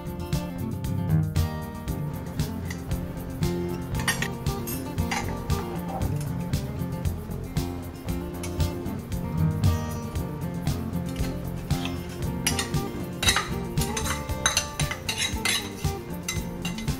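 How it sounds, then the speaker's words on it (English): A utensil mixes separated oil into gluten-free three-ingredient cookie dough in a bowl, repeated clinks and scrapes of metal against the dish over a low background of music, continuing in an uneven rhythm. "I'm gonna try and mix in this separated oil."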